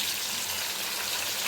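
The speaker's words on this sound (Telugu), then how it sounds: "దాంట్లో కొంచెం పసుపు వేసుకుందాము. ఇప్పుడు మనం ఉడికించుకున్న కర్రీ దీనిలో వేసుకుందాం." Boiled chicken curry fries in hot oil with turmeric, giving a loud, constant close-up sizzle that ends in a brief clatter, with no talking.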